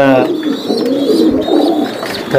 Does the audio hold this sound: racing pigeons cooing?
yes